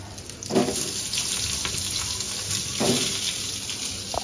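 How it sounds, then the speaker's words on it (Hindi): Steady sizzling of onions, green chillies, garlic, ginger and spices frying in a hot wok, with a couple of brief louder bursts as ingredients are stirred. "सारे मसालों को अच्छे से फ्राई कर लेंगे"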